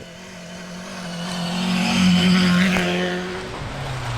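An 8-valve Ford Escort rally car, earlier troubled by a misfire, drives a Scottish rally stage with a steady engine drone that builds to a loud, close peak and then eases as it passes.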